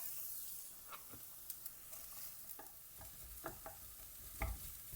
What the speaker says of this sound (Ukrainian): Засмажку робимо цибулька дрібно нарізана